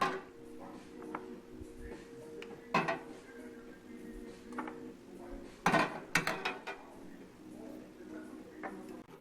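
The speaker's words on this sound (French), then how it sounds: "Je coupe le feu et je mets les yaourts." Glass or plastic yogurt jars set down one after another into a cooking pot, giving a few clinks and knocks around the middle of the clip over quiet kitchen background, tropical setting.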